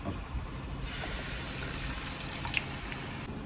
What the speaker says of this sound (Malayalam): അമ്മ വേവിച്ച് വെച്ച പരിപ്പ് അതിലേക്ക് ഒഴിക്കണം